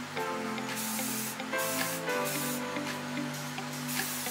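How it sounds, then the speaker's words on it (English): Spray primer hisses steadily from an aerosol can onto an upside-down 3D-printed Gundam vase, a continuous close spray with a few brief pauses, over soft background music. "I'm gonna spray it upside down and let it dry for a few hours."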